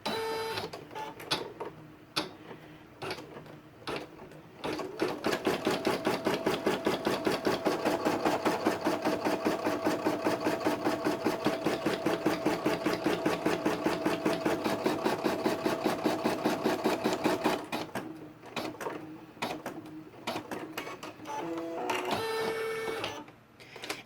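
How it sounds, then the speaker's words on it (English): An embroidery machine runs a basting stitch through stabilizer in its hoop, a rapid, even mechanical chatter that fills the middle stretch of the clip, with short bursts and clunks before and after. "I'm going to go ahead and run my basting stitch"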